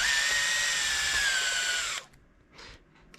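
A power drill fitted with a 2.5 bit whines steadily for about two seconds while backing screws out of a Ford F-450 truck, then stops, followed by a brief faint rustle.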